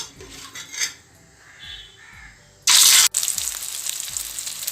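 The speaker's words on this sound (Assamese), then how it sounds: "তেল গৰম হ'লেই এতিয়া মই মাছখিনি ইয়াত বহাই দিম।" Fish pieces set into hot oil in a wok give a sudden loud sizzle burst, followed by steady crackling frying after soft kitchen clatter.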